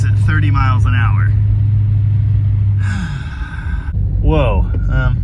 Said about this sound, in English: How could there possibly be that much wind noise at 30 miles an hour?